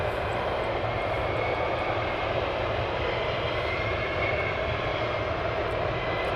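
Military jet aircraft at RAF Lakenheath give a steady, loud, broadband engine roar that holds constant without a break, distant and unaccompanied by voices.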